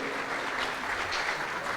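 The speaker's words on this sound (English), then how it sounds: "giving them a round of applause" A moderate round of clapping from a group, steady and continuous, heard from a short distance.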